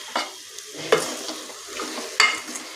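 Spiced chicken gravy stirred and sautéed in a pan, with a soft steady sizzle broken by a few sharp spoon scrapes against the metal, close and fairly quiet, with no talking.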